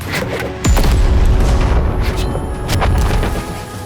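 An explosion in South Park: Snow Day hits with a sudden loud low boom, followed by rumbling debris and a few smaller crackling bursts as it fades.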